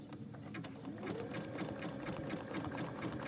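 A sewing machine runs a satin stitch on a reverse applique holiday bloom, a fast steady mechanical whir with rapid needle ticks, close and moderately quiet, slowing briefly as the piece is pivoted.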